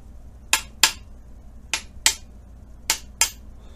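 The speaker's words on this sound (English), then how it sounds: "With my mini ball peen hammer, really quick, little tiny taps" Six sharp metallic taps from a mini ball peen hammer on engine bolts, in pairs spaced roughly a second apart, close and crisp against a quiet background.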